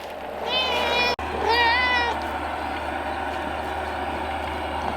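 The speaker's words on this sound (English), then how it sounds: "Avocado is the wild Mustang of the barn cats" A barn cat meows outdoors, two clear rising-and-falling calls close together, up close and loud, with a steady low hum behind.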